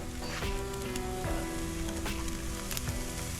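Fish fillets, triggerfish or amberjack, fry in a pan over medium-high heat with a steady, close sizzle and occasional crackling pops, and no talking.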